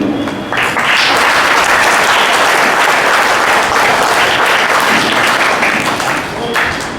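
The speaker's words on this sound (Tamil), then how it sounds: "கைதட்டுங்க" Loud, sustained applause from an audience at a Tamil Nadu yoga competition event, dense clapping swelling in after a brief start and holding steady for several seconds before tapering slightly.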